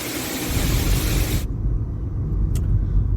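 Car pulling away from a car wash: steady road rumble and engine noise, with a loud broadband wash of spray or air that cuts off abruptly partway through, leaving the low engine drone.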